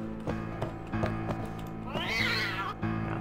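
A cartoonish cat meows once in the video game Final Fantasy X HD Remaster, a rising and falling cry heard over soft rhythmic game music and short percussive clicks.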